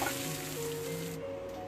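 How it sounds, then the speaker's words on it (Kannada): Hot tempering of cumin, green chilli, red chilli, asafoetida and curry leaves is poured into lemon appe huli saaru and sizzles. A steady, close, fairly soft hiss runs throughout with no talk. "ಸೊ ಒಗ್ಗರಣೆನ ಸಾರಿಗೆ ತೆಗೆದುಕೊಳ್ಳೋಣ"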